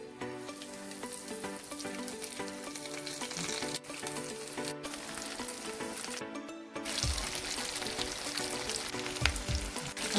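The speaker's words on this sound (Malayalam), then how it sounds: "എന്നിട്ട് നമ്മൾ കടായിൽ ആവശ്യത്തിന് എണ്ണ ഒഴിച്ച് ചൂടായിരിക്കുകയാണ്. അതിലേക്ക് നമ്മൾ ഇത് ഇട്ട് കൊടുക്കുകയാണ്." Breaded banana flower cutlets fry in hot oil in a kadai, giving a steady crackling sizzle throughout, with tonal music-like sounds running alongside and a brief dip before the frying grows louder.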